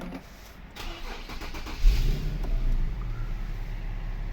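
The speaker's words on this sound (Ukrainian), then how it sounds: "З кнопки тут заводиться." Push-button start of a 2013 Infiniti Q70 AWD with a 3.7-litre petrol engine: a brief crank catches and settles into a low, steady idle, heard from nearby inside the car.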